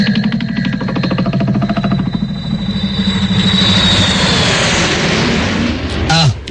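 Engines drone loudly inside an airplane cabin, a steady roaring hum with a rhythmic low pulsing that smooths into a broad whoosh, ending with a brief rustle.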